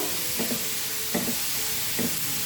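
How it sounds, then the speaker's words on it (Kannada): Chopped tomatoes fry in a pan with a soft background sizzle, punctuated by three evenly spaced stirring scrapes of a spatula; no talking. "ಅದೇ ಪ್ಯಾನ್ಗೆ ನಾಲ್ಕು ಟೊಮೊಟೊನ ಕಟ್ ಮಾಡಿ ಸೇರಿಸ್ಕೊಳ್ತಾ ಇದ್ದೀನಿ ಇದನ್ನು ಚೆನ್ನಾಗಿ ಫ್ರೈ ಮಾಡ್ಕೊಬೇಕು"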